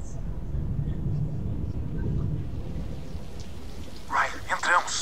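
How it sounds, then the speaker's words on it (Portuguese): Steady rain falls in the Blood & Truth VR game as a soft, even hiss throughout, with a player's voice coming in briefly near the end. "Chuva!"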